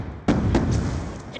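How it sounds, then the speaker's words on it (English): A Call of Duty grenade bursts with a heavy thump, followed quickly by another thud and scattered clatter, loud and close in a busy game soundscape. "Hostile grenade!"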